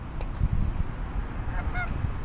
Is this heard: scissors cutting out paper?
no